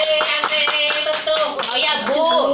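A group in a training session claps hands in a quick, rhythmic beat while voices sing or call out over it, fairly loud and close throughout.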